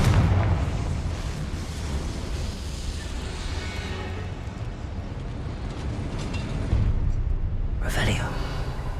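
A Confringo spell goes off in Hogwarts Legacy as a loud, rumbling blast over a dense roar of combat noise, ending in a sharp crack near the close.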